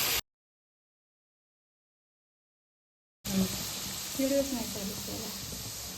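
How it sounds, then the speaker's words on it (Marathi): Onion and tomato fry in hot oil for a paneer gravy, giving a steady sizzling hiss. It starts after a brief burst of sound and about three seconds of silence, then runs close and fairly loud to the end. "पनीरचा कांदा आणि टोमॅटोची ग्रेव्ही करण्यासाठी कांदा आणि टोमॅटो चांगले तळून घेतो"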